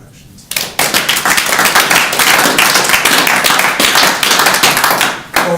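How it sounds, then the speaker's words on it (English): Sustained audience clapping at a school district board of education retreat, starting abruptly and continuing as a dense, steady round of applause from a room of people before cutting off near the end. "deserve a round of applause for us for getting learning to move in positive directions"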